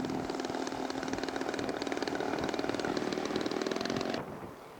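A scale model airplane passes over an airfield, its propeller engine droning loud and steady with a rising-then-falling pitch before fading out near the end.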